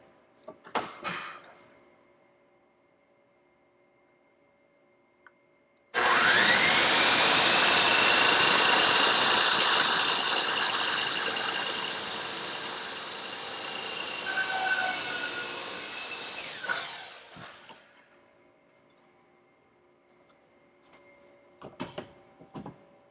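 A miter saw slices through a wooden piece for a painting frame at a 45-degree angle: one loud, sustained cut of about eleven seconds that starts abruptly, then whines down, with quiet handling clicks before and after.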